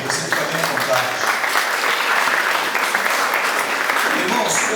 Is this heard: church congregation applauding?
yes